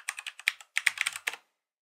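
A short burst of quick, close keystrokes on a computer keyboard as a password is typed, about a dozen light taps in two clusters, then silence.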